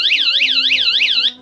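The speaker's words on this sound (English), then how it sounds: "you hit that alarm and anybody in the area is gonna hear it" A tactical flashlight's built-in personal alarm gives a loud, piercing electronic warble that repeats in rapid even sweeps, close and alone, for about a second and a half, then cuts off.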